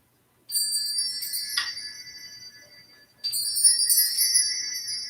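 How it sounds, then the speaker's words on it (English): Delicate metallic chimes ring out in two shimmering bursts, the first fading slowly before a second, brighter cascade. "Those are my chimes."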